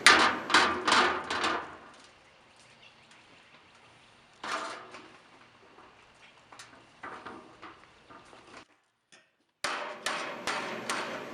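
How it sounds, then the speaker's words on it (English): Sharp metallic hammer blows strike angle iron clamped over a sheet-metal edge while building a weld cart, loud bursts of rapid repeated hits separated by quiet pauses. "you can take a hammer while your angle iron is on there"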